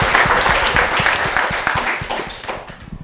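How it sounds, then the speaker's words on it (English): Enthusiastic applause from a room of people at a student hackathon finals, loud and close, with rapid overlapping claps that gradually taper off toward the end. "Give her a round of applause."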